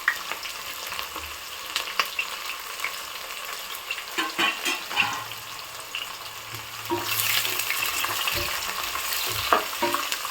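Onions and green chillies frying in oil for a mutton curry, a steady close sizzle broken by scrapes and clinks of a spoon stirring the pan, swelling louder near the end.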